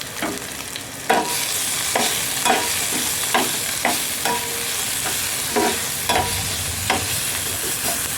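Onion and garlic frying in a pan until light brown, a loud continuous sizzle punctuated by regular scraping stirs of a spatula about once a second, no voices.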